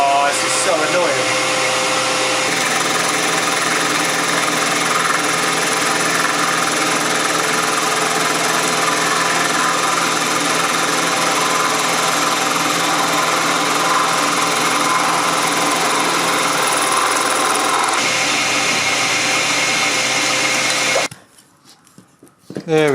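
A vintage milling machine cuts metal off a scratch-built vintage suspension part, a loud continuous whirring motor drone with grinding cutter noise that runs steadily before stopping abruptly near the end.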